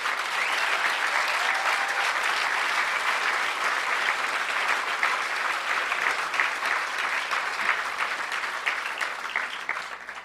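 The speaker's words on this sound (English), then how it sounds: "I think we should give a round of applause to Emmanuel and 2600" A conference audience at the HOPE hacker conference in 2008 keeps up a long, steady round of applause, many hands clapping evenly with a slight fade toward the end.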